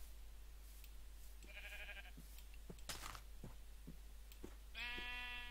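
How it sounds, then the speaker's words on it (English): Sheep in a Minecraft modpack game: two short bleats, one faint in the middle and a louder, buzzier one near the end, over a steady low hum with scattered clicks. "Sheep."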